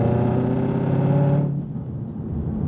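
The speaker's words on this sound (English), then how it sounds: "We're gonna find a tunnel just so you can hear this exhaust." A sports car with a dual exhaust revs in a tunnel, giving a loud, sustained booming engine note that drops off partway through and settles into a lower rumble.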